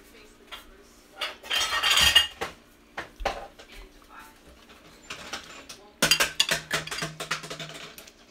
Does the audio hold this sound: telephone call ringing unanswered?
no